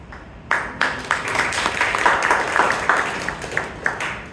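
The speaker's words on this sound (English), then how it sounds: "Give a round of applause for Toastmaster Aswathy." A Toastmasters club audience in Bangalore breaks into applause, starting abruptly and building into steady clapping from a modest group, with a few sharper individual claps standing out near the end.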